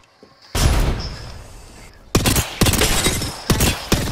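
Rapid bursts of gunfire in the battle royale video game Apex Legends: a loud blast, then a series of close, sharp volleys in quick succession.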